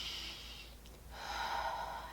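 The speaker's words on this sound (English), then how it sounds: "I can inhale and exhale on my own" A person takes a deep breath, a soft airy inhale followed after a brief pause by a longer, louder exhale, close and alone with no talk.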